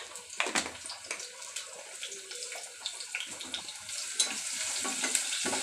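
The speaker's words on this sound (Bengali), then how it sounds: "হালকা একটু ভেজে নেব।" Whole cumin seeds fry lightly in oil in a pan, giving a steady close crackling sizzle with irregular louder pops and soft stirring scrapes throughout.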